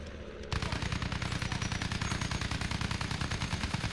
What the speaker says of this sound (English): I'm gonna try these little canister rounds.